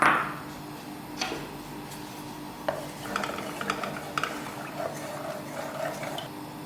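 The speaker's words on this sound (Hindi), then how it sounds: "जैसे हमारा ऑयल गर्म होता है, सबसे पहले हम इसके अंदर प्याज डालेंगे ग्राइंड किया हुआ है" Oil sizzles and crackles steadily in a pan as ground onion is tipped in and stirred, with scattered clicks and scrapes of a utensil throughout.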